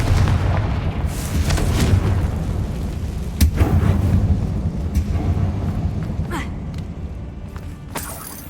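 A Confringo fire spell blasting inside a closed mine tomb in Hogwarts Legacy: a loud booming explosion and rumbling roar fill the space, with a sharp burst near the middle and lingering debris noise afterward.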